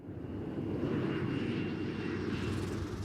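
A small propeller airplane drones steadily overhead in the Australian outback during a drought, a continuous low engine hum with no voices.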